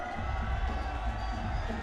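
Arena crowd at a Shenzhen Aviators vs San Miguel Beermen basketball game cheers and applauds for player Standhardinger, a loud continuous roar with heavy low rumble and scattered shouts.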